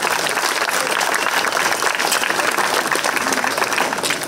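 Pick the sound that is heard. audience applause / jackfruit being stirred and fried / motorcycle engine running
audience applause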